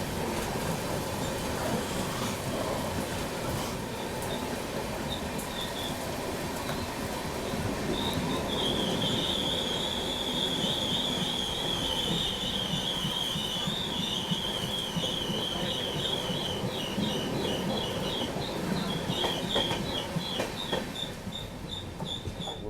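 Netaji Express train hauled by a WAP-5 electric locomotive, heard from on board as a continuous loud rumble and rattle of carriages, with a long high wheel squeal partway through.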